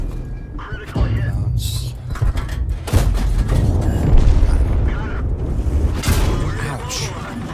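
World of Tanks battle with a T14 tank: dull cannon booms and shell impacts land amid a rumbling engine and game effects, several sharp thumps spread across the stretch, with voice lines heard over the action.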